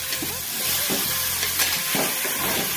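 Dry red chillies, garlic cloves, curry leaves, cumin and hing tempering in hot oil for a Telugu cucumber (dosakaya) chutney, a steady close crackling sizzle with stirring scrapes, no voices.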